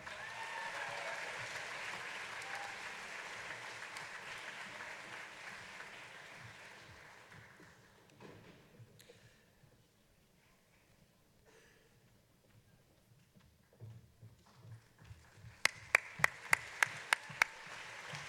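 A commencement crowd at a high school graduation ceremony gives a steady, softly washing applause that fades in the middle, followed later by a short run of sharp, close claps.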